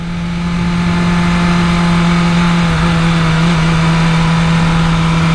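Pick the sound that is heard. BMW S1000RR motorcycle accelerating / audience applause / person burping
BMW S1000RR motorcycle accelerating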